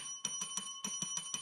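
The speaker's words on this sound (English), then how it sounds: "let me ring the bell." A hand bell is shaken in two quick bursts of rapid metallic rings with steady bright overtones. It is fairly faint and close, with no voices over it.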